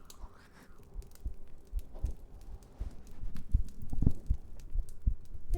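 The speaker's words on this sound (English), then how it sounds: "Why can't I hear my heartbeat?" Heartbeat picked up through a binaural 3Dio ASMR microphone, a series of soft low thumps in a steady pulse, growing slightly louder toward the end, close and intimate with no talking.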